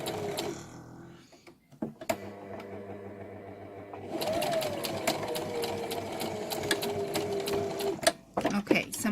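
Electric sewing machine running in bursts as it stitches the final seam to the edge of fabric for a Tilda doll, a steady mechanical whir that stops and restarts, with talk in between.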